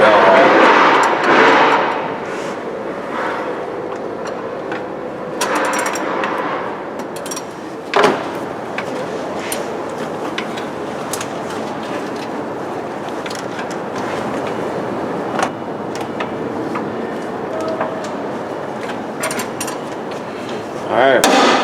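A long 3/8 ratchet works while a belt is refitted on an H3 Hummer, producing repeated metallic clicks and clanks with a few sharper knocks over a constant background hum.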